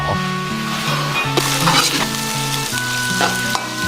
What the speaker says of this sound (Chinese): 牛肉先下锅翻炒